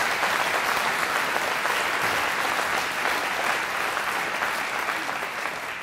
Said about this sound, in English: Please give this one a round of applause.